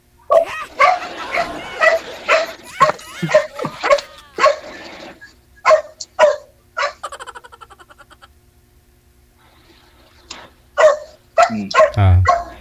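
A dog letting out a run of sharp, close barks and yips, then a thin whimpering whine, a pause, and another burst of barks, with no talking.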